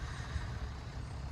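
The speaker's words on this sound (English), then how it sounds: "You can hear their truck starting right now." Low, steady rumble of a work truck's engine at a backyard landscaping site, faint and somewhat distant, with no talking.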